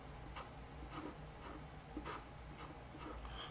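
Chalk or marker tapping and scratching on a board during a math lesson on sine graphs, a series of short, evenly spaced strokes over a low steady room hum, faint and close.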